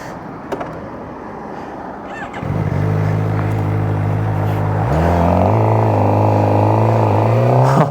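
A Suzuki GSX-R 600 supersport motorbike: some faint clicks and handling noises, then the engine fires up loudly at close range into a steady idle, with blips of revving that rise in pitch toward the end.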